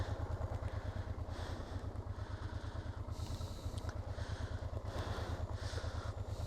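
A motorcycle engine idles close by with a steady low, throbbing rumble and faint rattling, continuous throughout with no talking.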